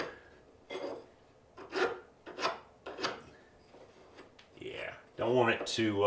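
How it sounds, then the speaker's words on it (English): A metal hand file rasps in short strokes, taking sharp edges off cut pieces for a table saw storage cabinet, several separate passes with pauses between, close up and fairly loud, ending with a brief burst of talk. "I want to use a regular file and just take the sharp edges off"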